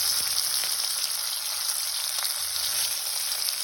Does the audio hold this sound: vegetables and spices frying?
yes